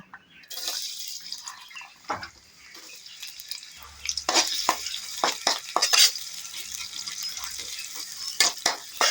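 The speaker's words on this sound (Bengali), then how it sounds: "তো প্রথমে পেঁয়াজ কুচি দিয়ে দিব" Chopped onion dropped into hot oil in a wok for a chickpea-greens dish in a village kitchen, a rising crackling sizzle with repeated sharp scrapes and clinks of the stirring spoon, close and fairly loud.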